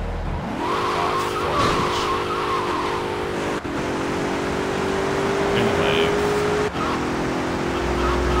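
Sentinel car from GTA Vice City driving with a steady engine drone and tire skids, loud and continuous throughout, with game sounds around it.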